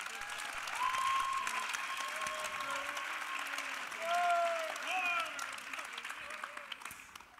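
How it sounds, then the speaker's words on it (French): Audience applause for the judges at a local Cégep student talent show final in Sainte-Foy, a soft, steady clapping crowd with scattered cheers and voices rising through the middle. "Une bonne main d'applaudissements"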